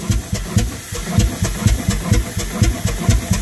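A Herreshoff lightweight triple expansion steam engine starts and runs with a quick, even chuffing beat, each exhaust puff a sharp hiss over a low mechanical thump, loud and close.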